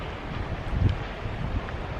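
Wind blowing across the microphone on a mountain hiking trail with July snow, a steady low rumble with gusts swelling briefly, continuous and fairly loud.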